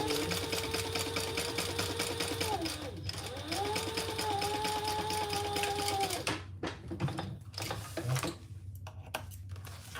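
Sewing machine basting tiny pieces of fabric in place for a mini and XL necessary clutch, running steadily with a close, droning motor whine that pauses briefly and restarts, then tapers off into a few soft clicks and handling noises.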